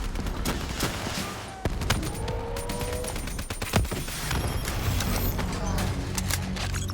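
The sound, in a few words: Javelin missile fire and gunfire in Call of Duty Black Ops 3 video game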